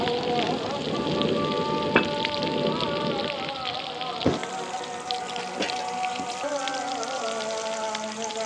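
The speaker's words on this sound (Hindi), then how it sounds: "तो व्यूअर्स अल्हम्दुलिल्लाह हल्की हल्की बारिश शुरू हो चुकी है" Light rain falls steadily outdoors, a soft continuous patter with scattered nearer drops and a few sharper taps, heard alone throughout with no talk.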